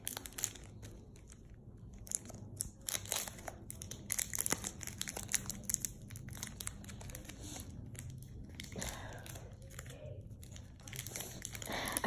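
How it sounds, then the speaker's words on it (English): Crinkling plastic wrapper of a Pokémon Sun and Moon Burning Shadows card pack being handled and pulled at, quiet, close-up irregular crackles and crunches in bursts throughout. "I can't open this pack."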